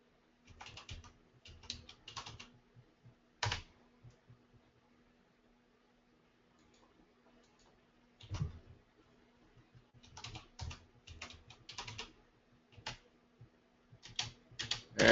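Quiet keystrokes on a computer keyboard in short bursts of rapid tapping, separated by long pauses, with a faint hum underneath.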